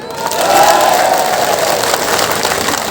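A crowd at a BJP campaign event in Arunachal Pradesh bursts into dense, sustained applause with some cheering, loud and continuous, gradually easing slightly toward the end with no clear speech.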